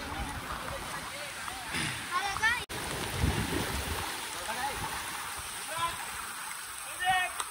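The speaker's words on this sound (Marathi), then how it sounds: "हे छोटीशी 3 फुटाची नदी होती, आम्ही क्रॉस केली" A small, shallow river about three feet deep runs through a rainy-season spot near Badlapur, giving a steady, close rushing wash of flowing water. Voices are faintly heard over it.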